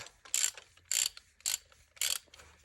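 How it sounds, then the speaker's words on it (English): A regular hand ratchet turning a spark plug on a 2013 Ford Mustang V6, four close bursts of rapid clicking spaced about half a second apart, each short and crisp, with no talking. "switched it to a regular ratchet"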